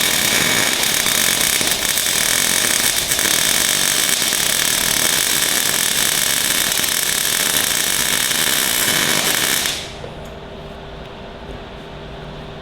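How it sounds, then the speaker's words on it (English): Steady, loud crackling hiss of welding on a steel workshop trolley frame runs continuously for nearly ten seconds up close, then cuts off abruptly into a quiet hum. "So I'm just welding that on."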